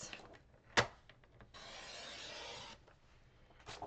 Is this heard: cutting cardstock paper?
yes